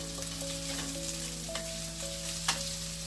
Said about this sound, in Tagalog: Gisa-gisa lang natin ang kaunti sa friendship.